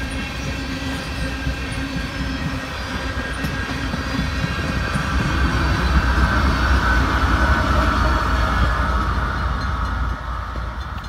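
A CP freight train of empty grain hopper and tank cars passing close by in northern Missouri, a loud continuous rumble of wheels on rails that swells mid-pass, with faint wheel squeal and no talking.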